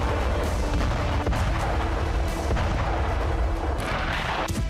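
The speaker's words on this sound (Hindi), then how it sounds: "टैंक और तोप बारूद उगल रहे।" Tanks and artillery firing in a war zone, a dense, continuous roar of heavy blasts and rumbling detonations with sharp cracks breaking through, loud and sustained with no pause.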